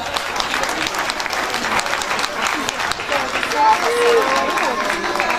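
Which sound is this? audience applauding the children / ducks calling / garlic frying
audience applauding the children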